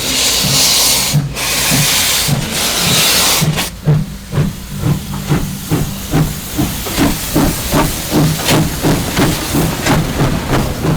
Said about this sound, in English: that's not Clare Beckett, that's Clare the locomotive, weighs an astonishing 150 tons and consumes about 3 tons of coal on a trip